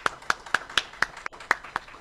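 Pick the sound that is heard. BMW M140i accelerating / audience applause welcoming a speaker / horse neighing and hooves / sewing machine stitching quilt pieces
audience applause welcoming a speaker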